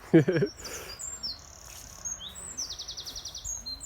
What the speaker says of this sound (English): Obviously some very pleasant birds chirping.